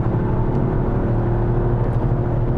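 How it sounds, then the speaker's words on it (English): A 2021 Toyota GR Yaris engine hums at a steady, fairly high pitch around 5,000 rpm, droning continuously close by as the car drives. "listen to that little engine singing."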